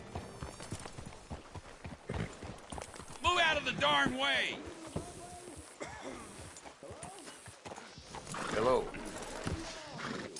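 Horse hooves clip-clop in Red Dead Redemption 2, a patter of light, irregular hoof falls mixed under close, talking voices through most of the stretch.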